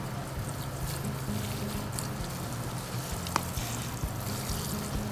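Water sprinkles gently over a bed of succulent plants in summer, a steady soft hiss and patter that goes on throughout at low volume.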